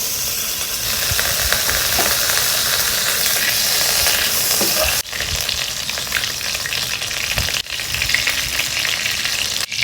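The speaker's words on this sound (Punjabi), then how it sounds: "ਆਪਣਾ ਘਿਓ ਗਰਮ ਹੋ ਗਿਆ" Ghee heating in a kadhai on the stove, a loud, dense, continuous sizzle and hiss close by that runs throughout, with a few brief dips and soft knocks partway.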